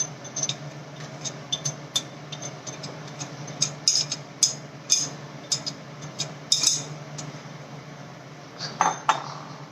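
A besan (gram flour) mixture is stirred in a bowl over low heat, with a spoon clinking and tapping against the bowl in quick, irregular ticks over a soft steady hum.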